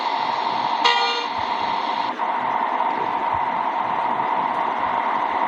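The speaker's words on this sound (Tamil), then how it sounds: "பழைய ஹாரன் தான்." An old-style bus horn in the Bus Simulator India game honks once in a short, bright blast over a steady hum of engine and road noise, with no talking.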